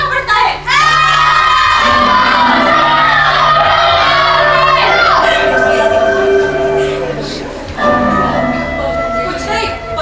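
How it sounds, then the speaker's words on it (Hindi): A stage effect in a play plays a loud crowd of children shouting and cheering, with bell-like ringing tones sustained over the din for about ten seconds. "कुछ नहीं, बच्चों का शोर होगा शायद।"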